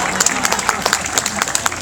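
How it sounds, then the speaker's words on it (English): An audience at an aquarium show on the Oregon coast claps in a short burst of scattered, fairly close applause, with individual hand claps standing out in an uneven rhythm. "Can we give her a round of applause?"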